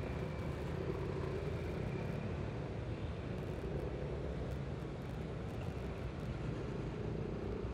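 Road traffic jam heard from a motorcycle while motovlogging, with a broken-down truck stated as the cause: a steady, even rumble of idling engines and wind, with no distinct horns or passes.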